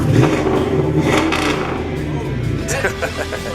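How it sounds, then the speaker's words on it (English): An old classic muscle car's V8 engine rumbles loud and close, rising into a rev with clattering texture and a climbing tone near the end, heard beneath someone talking. "But who doesn't love the sound of an old classic muscle car like this?"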